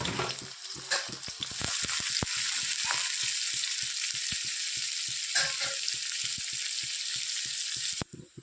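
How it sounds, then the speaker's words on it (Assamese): Chopped onions and a bay leaf frying in a pan, a steady broadband sizzle running throughout with regular soft clicks and scrapes of stirring, close and fairly loud with no talk. "পিয়াজখিনি ৰঙাকৈ ভাজি লৈছো"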